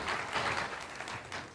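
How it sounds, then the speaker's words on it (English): A live audience at a climate-themed event breaks into a round of applause, a dense, steady wash of clapping heard alone and fairly faint, as if from within the hall. "Round of applause for all the people who voted."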